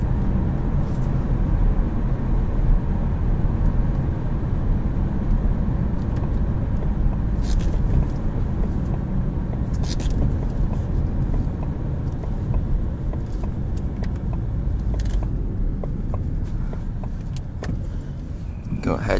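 Engine of a 2019 Ford Mustang EcoBoost with manual gearbox, a steady loud low drone heard from inside the cabin with a few small clicks and rattles and no talk.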